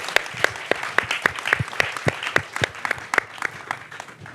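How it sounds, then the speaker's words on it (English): Audience applause at a screening Q&A, a short burst of sharp, fairly close hand claps from a small crowd, steady and even, without voices. "so a round of applause"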